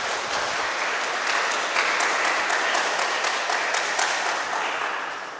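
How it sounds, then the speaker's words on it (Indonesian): Applause for the newlyweds at a Catholic wedding ceremony, a dense, sustained crowd clapping, loud and steady throughout before easing slightly at the end. "Kita beri tepuk tangan untuk mereka."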